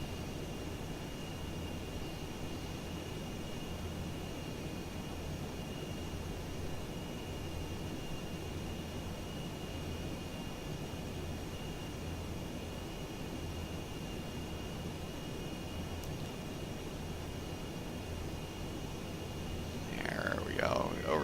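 Aircraft engine in a video game as the plane comes in to land on a ship, a steady broadband drone holding level throughout, with a brief louder flutter at the very end.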